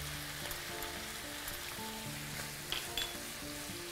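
Onion and garlic fry in a pan with a soft, steady sizzle, a quiet continuous crackle with a couple of brief sharper pops near the end.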